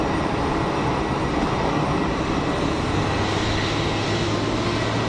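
Pegasus Airbus A320neo jet rolling down runway 04 at Geneva Airport on departure, a steady broadband engine roar holding loud and constant throughout, with no voices over it.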